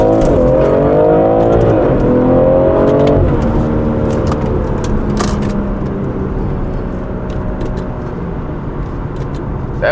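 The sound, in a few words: car with B58 TU engine on stage 1 map accelerating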